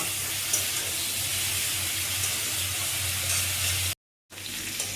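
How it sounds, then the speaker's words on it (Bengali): Cauliflower and potato with turmeric fry in a pan, giving a steady, close hiss and sizzle that runs on evenly, cut by a brief silent gap near the end. "আর একটু হলুদ দিয়ে ফুলকপি আর আলুটাকে আমি ভালো করে ভেজে নেব।"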